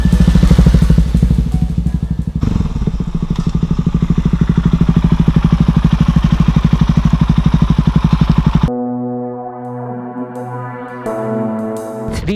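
A Shineray Mash 400 motorcycle engine drones loudly and steadily during a ride, a close throbbing rumble that shifts abruptly to a lower, smoother tone near the end.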